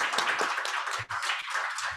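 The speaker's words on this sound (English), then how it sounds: "give a round of applause to the panelists before we move on to Q&A" An audience at an Earth Day diversity panel applauds the panelists, a dense steady round of clapping that dips briefly midway and then carries on.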